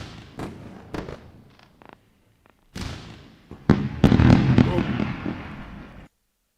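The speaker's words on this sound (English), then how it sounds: "Let me just do some fireworks." A fireworks sound effect plays during a live day-trading stream, with sharp pops and bangs rising into a dense crackling burst that ends abruptly. A faint voice can be heard early on.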